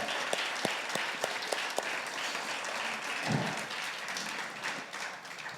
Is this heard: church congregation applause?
yes